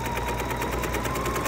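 A sewing machine running a seam on a cosmetic bag project: a fast, even, close mechanical rattle of stitching that holds steady through the whole short stretch, without speech.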